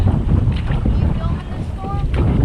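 Wind gusts across the microphone during a canoe trip in the Boundary Waters, a constant low buffeting rumble that fills the whole stretch, with a faint tonal murmur rising briefly near the end.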